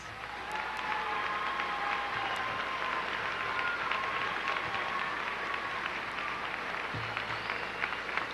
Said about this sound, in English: would you please give them another round of applause?